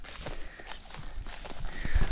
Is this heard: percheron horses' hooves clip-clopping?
yes